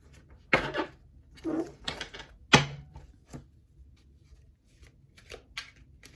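Several sharp riffling bursts of cards being shuffled nearby, irregular and separated by short quiet gaps, fading to softer taps.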